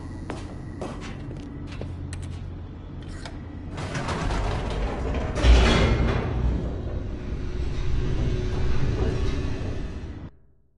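In The Stanley Parable, an elevator descends with a low mechanical rumble and clattering, swelling louder midway with a sharp thud, then holding a steady droning hum before abruptly stopping.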